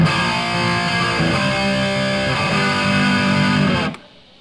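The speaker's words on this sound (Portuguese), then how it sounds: "Esse é o som do canal OD1 com o Tube Screamer empurrando." An electric guitar played through an OD1 overdrive channel pushed by a Tube Screamer pedal gives a loud, thick, sustained distorted tone with ringing chords for about four seconds before it is cut off abruptly.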